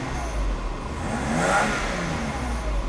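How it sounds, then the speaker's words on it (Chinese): A Mercedes W124 300CE engine with the air conditioning on runs with a steady, close mechanical hum that swells as the revs climb toward 4000 rpm on their own, then settles slightly. "它就是在转速到3000快到接近4000的时候，它不用加油，它自己会拉上去"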